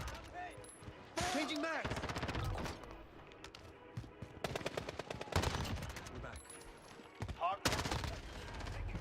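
Automatic gunfire in a shooter video game, repeated bursts of rapid shots with short pauses between them, mixed with in-game callouts and effects.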